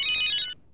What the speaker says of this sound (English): Pick a ringtone and press M.